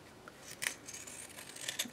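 Decorative scissors snip along the edges of chipboard, giving a few crisp cuts and a slicing rasp close up, with no talking.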